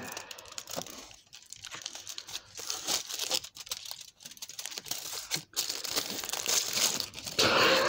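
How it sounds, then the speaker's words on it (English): Foil being peeled carefully off a Guinness caramel chocolate bar, close and crisp, with irregular bursts of crinkling and light tearing separated by short pauses. "I'm trying to do it ever so carefully because I don't want to tear the foil"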